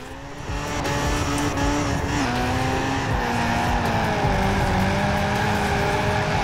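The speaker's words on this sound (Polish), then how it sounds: "Jak ciężko go w tym drifcie utrzymać" An old drift car in Forza Horizon 4 revs hard through a long slide, its engine note wavering up and down as the tires squeal continuously, loud and close throughout.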